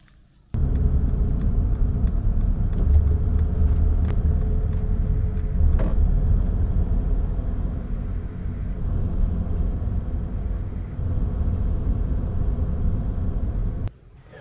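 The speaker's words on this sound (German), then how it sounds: "Also fahren wir mal wieder zurück auf die Hauptstraße" A motorhome drives along a road with a steady, close, low rumble of engine and road noise that holds from start to finish, with faint rattles and no talk.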